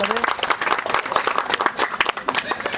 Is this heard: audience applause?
yes